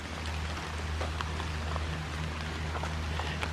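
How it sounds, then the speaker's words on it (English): Rain falls steadily on a wooded trail of deciduous trees and eastern red cedar, a soft, even hiss of drops with scattered light pattering and a low background hum. "Rain's getting a little heavier."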